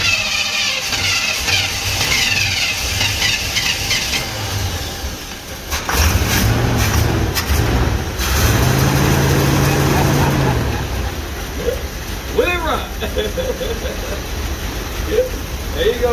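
A 1964 Chevrolet Impala two-door hardtop engine, running after sitting 25 years, idles with a low, steady rumble underneath excited talking, with a stronger throbbing stretch partway through.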